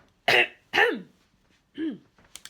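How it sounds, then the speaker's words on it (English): Two sharp coughs in quick succession from a woman, then a third rougher throat sound after a pause, close and fairly loud in a quiet room. "another cough coming"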